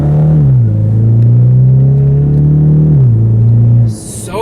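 A 2015 Ford Mustang EcoBoost accelerates hard with a loud, steady turbocharged engine drone that climbs in pitch. The tone drops at one gear change and again at a second, then the drone cuts off sharply at the end.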